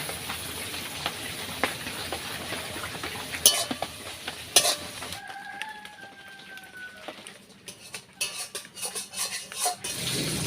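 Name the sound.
onions frying in a pan with salt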